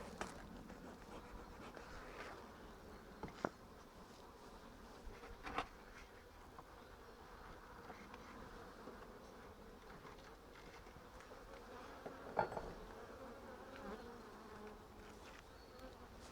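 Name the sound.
bees buzzing in a hive box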